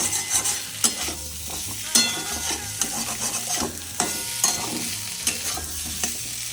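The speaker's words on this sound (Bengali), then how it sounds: "এবার নেড়ে নেড়ে এটাকে একটু ভাজবো। একটু লাল লাল হয়ে গেলে আমি তুলে নেবো।" Boiled small new potatoes stirred and fried in a pan of oil: repeated scraping and clattering strokes of the spoon over a constant sizzle, close and busy, with no voices.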